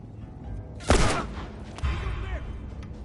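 Two gunshots ring out in The Last of Us, a sharp loud blast followed by a second shot about a second later, each trailing into a brief rumbling decay over low game ambience.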